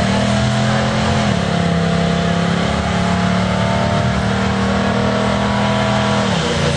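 A 1989 Chevy Silverado pickup roars at a burnout contest, its engine held at a loud, sustained high rev with a steady droning tone that dips briefly in pitch before climbing back, close and overpowering.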